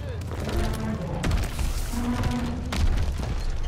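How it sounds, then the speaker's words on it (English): Rumbling booms and heavy thuds of friendly tanks advancing over trenches in a Call of Duty WWII battle, with low engine drone and scattered distant impacts throughout. "Friendly tanks coming over the trenches."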